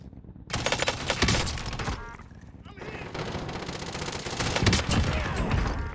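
Rapid bursts of automatic rifle fire from an FFAR in Call of Duty Cold War Warzone, loud dense volleys starting abruptly and continuing in sustained strings with brief gaps, a voice occasionally speaking underneath.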